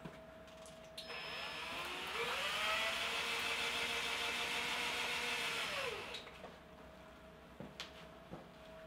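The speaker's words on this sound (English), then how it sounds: "Okay, here we go. Let's spin it." A spin art machine spins up with a steady rising whir, holding a loud motor hum for about five seconds before winding down, followed by a few faint knocks.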